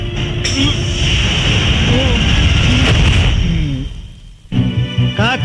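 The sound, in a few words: gunshot sound effect in a film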